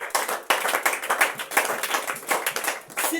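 A church congregation claps in acclaim for the king, with close, loud, rhythmic bursts of many hands keeping a fairly steady beat.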